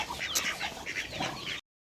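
About twelve chicks peep and chirp in a quick, busy cluster close by in a backyard, a brief flurry of high calls that cuts off abruptly.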